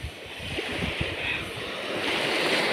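Sea waves driven by strong wind wash against the shore by a fishing village on Sibuyan island, a continuous hiss of surf and gusting wind with low rumbles, building slightly toward the end.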